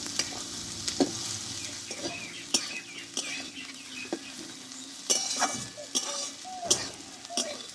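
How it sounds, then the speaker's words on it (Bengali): Thinly sliced eggplant sautés in hot oil with a steady sizzle, and a spatula stirs and scrapes against the pan in regular clinks and knocks throughout. "দেখো বেগুনগুলো ভালোভাবে আমি কষে নিয়েছি"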